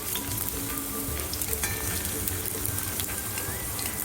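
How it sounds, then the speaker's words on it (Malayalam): Cauliflower florets for gobi manchurian frying over a medium flame, a dense continuous sizzle and bubbling, close and steady, with no voices. "ഒരു മീഡിയം ഫ്ലെയിമിൽ ഇട്ടിട്ട് വേണം ഫ്രൈ ചെയ്തെടുക്കാൻ."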